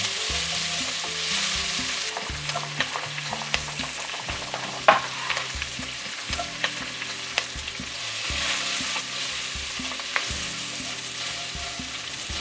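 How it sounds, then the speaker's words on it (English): Onions and garlic sauté in an enameled Dutch oven after the beef is set aside, a dense constant sizzle with frequent light scraping and tapping of the spoon as they are stirred. "we saute onions and garlic until fragrant"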